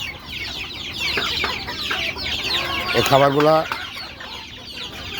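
Native chicken chicks about 48 days old on a farm, with busy overlapping clucks and chirps close by and a louder burst of calls midway, while someone speaks over them.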